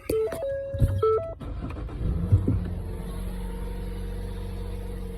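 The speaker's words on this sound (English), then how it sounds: "Okay, I'm gonna start up the car." A 2013 Ford Escape's engine cranks with a chirp of whirring, catches, and settles into a steady low idle that rumbles on close by, with no one talking.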